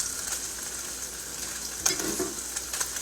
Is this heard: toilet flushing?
no